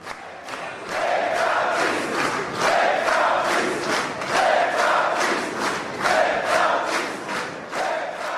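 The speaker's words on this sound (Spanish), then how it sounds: "Lech Kaczynski es vitoreado por sus seguidores." Supporters cheer Lech Kaczynski's 2005 Polish presidential election win with a loud crowd chant. Rhythmic bursts of voices rise and fall in repeated waves, close and sustained.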